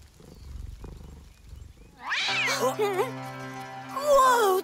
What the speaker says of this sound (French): le chat a senti la bête sauvage en toi!